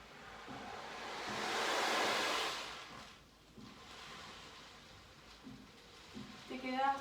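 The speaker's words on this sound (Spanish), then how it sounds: "sentís como rompen las olas en tus pies." Ocean waves break on a beach, a soft surging wash that swells and fades, with quiet background noise and faint wind.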